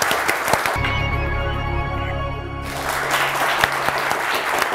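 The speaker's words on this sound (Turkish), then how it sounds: "Kocaman alkışlar." A game show studio audience applauds loudly and steadily for a few seconds, with a sustained musical tone playing underneath part of it.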